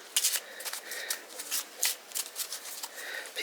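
Playing cards are shuffled by hand close to the microphone in a run of quick riffles and soft flaps, with short pauses between bursts.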